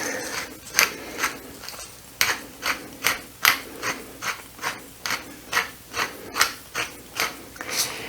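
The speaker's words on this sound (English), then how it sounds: "If you like your black pepper, you could put maybe up to half a teaspoon, but I'm just going to do a few grinds." Close-up grinding of black pepper in a hand pepper mill while making an Instant Pot seitan roast, about a dozen rhythmic ratcheting crunches in steady, evenly spaced bursts with no talk over them.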